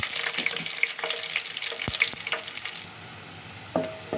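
Whole cinnamon, cloves and cardamom tempering in hot oil for rice: a faint, uneven sizzle broken by a few sharp crackles and pops, heard up close with no voices.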